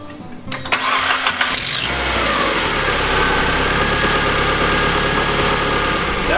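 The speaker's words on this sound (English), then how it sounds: "That was a pretty good startup and a pretty good sign based on the sound of the engine that we timed everything correctly" A 2005 Mazdaspeed Miata engine cranks briefly, then catches and settles into a loud, steady idle, heard close up.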